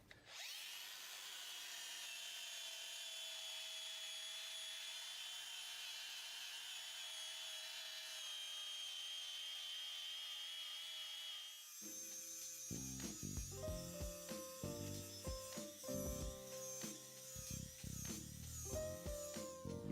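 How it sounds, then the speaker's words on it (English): A 125mm poly flap disc of Scotch-Brite-like material sands out scuffs. A steady, high spinning whine gives way to louder, rougher, fluctuating grinding as the disc meets the surface. "I'm going to be going to 125mm poly flap disc"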